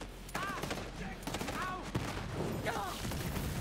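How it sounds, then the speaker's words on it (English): Explosive gunfire in the Borderlands 3 video game, bursts of rapid shots and blasts recurring across the stretch with mechanical ringing tones, loud and close, with game sounds layered in. "Look what I got! Got explosions!"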